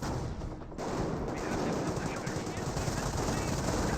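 Gunfire in the World War II strategy game Company of Heroes: dense rapid bursts of machine-gun fire and shots crackle continuously, close and loud, filling the whole stretch without pause.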